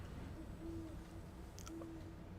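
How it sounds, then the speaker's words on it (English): An owl hoots in the game The Midnight Walk, two soft, steady low hoots spaced apart over a noisy ambient background, faint and distant, with no talking. "I hear an owl?"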